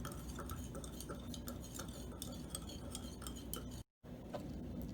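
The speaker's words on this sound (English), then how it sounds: "And stir until all the salt is dissolved." A spoon stirs salt in a container to dissolve it, producing quick, repeated light clinks and scrapes, faint and close, with a brief gap near the end.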